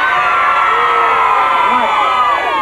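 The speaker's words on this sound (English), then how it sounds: "Give him a cheer, come on." Studio audience of children cheering and whooping for a contestant on a 1987 kids' TV gameshow, a loud sustained roar of young voices filling the whole moment.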